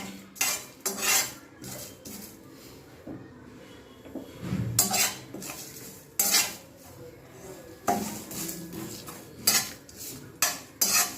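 Dried red chillies and cumin dry roasting in a pan, heard as bursts of scraping and clinking from a utensil against the metal, irregular and close, with short quiet gaps between strokes.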